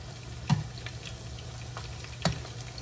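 Eggplant fries in oil with a soft, steady crackle, quiet and close, broken by two brief knocks from a utensil in the pan.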